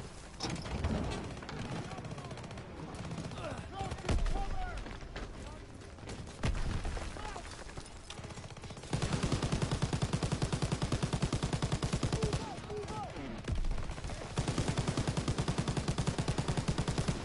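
Dense rapid gunfire from Call of Duty WW2 campaign combat, with sustained automatic bursts and scattered shots rattling loudly for the whole stretch, some bursts tighter and harsher than others, over a busy battlefield din.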